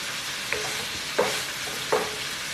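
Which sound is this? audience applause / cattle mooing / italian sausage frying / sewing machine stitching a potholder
italian sausage frying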